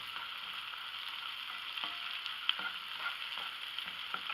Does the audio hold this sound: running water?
no